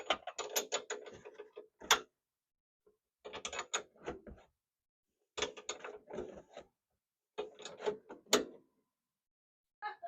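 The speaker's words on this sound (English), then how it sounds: "I'm just going in with a straight wrench because that's really all that fits in there." Straight wrench turning 18mm crown nuts on a coilover of a 2018 Chevy Colorado ZR2 during a leveling kit install, close metallic clicks and ratcheting rasps in short bursts separated by quiet pauses, no talking.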